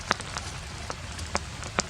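Rain falls outdoors at a snowy winter campsite, a steady soft patter with scattered, sharper drops tapping a nearby surface, continuous and without voices.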